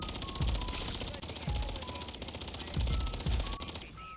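A Rival 9 SMG fires in Modern Warfare 3 Zombies as repeated rapid bursts of close, punchy gunfire with low thumps between them, fairly loud against a busy game background.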